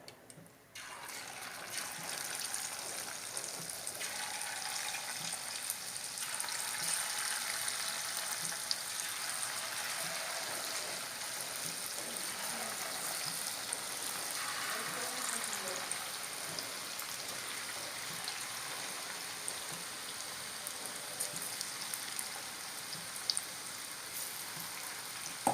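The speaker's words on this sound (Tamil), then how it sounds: "மீதி இருக்கிறது இதே மாதிரி நம்ம பொரிச்சு எடுத்துடலாம்." Soya chunks (meal maker) frying in hot oil for chilli meal maker, a steady hissing sizzle like light rain that runs the whole time, fairly quiet and close, with a voice talking faintly over it.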